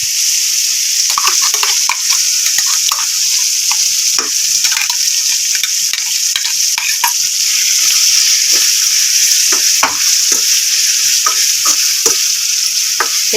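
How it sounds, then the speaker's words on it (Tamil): A spice paste sizzles loudly in a pan of kaara kuzhambu with softened tomatoes, a continuous close hiss of frying broken by repeated scraping clicks of a spoon stirring. "இப்போ இந்த பேஸ்ட்டை ஊற்றிக்கலாம்."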